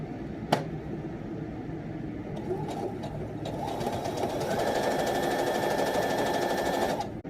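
A sewing machine stitches a curved fabric seam during a quilt-piecing session, its steady mechanical whir running continuously for several seconds after a brief sharp click near the start.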